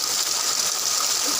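Water gushes and splashes continuously into a container, apparently collected for washing dishes, a steady close rushing wash without talk.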